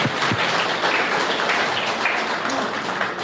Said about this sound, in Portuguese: Por favor, um lindo aplauso a essa palavra.